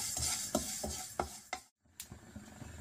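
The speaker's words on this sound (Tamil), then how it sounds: "வெடிக்க ஆரம்பிக்குது வறுபட்டுருச்சு" Chia seeds dry-roasting in a pan on the stove, giving a few sharp pops and crackles with a steady sizzle underneath.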